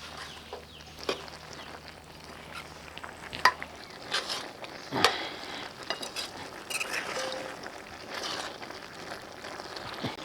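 Vegetables and jaggery are stirred together in a cooking pot for a Bhogi mixed vegetable dish, giving intermittent close scrapes and clinks of a spoon over a low background hiss.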